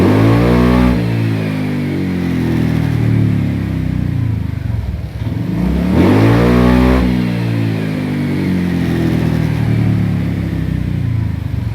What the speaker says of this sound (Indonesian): Kita coba akselerasi 0 ke 80 dulu ya.